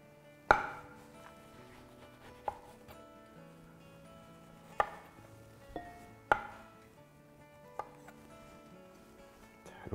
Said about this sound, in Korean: 오렌지를 이렇게 앞뒤로 이렇게 썰어주고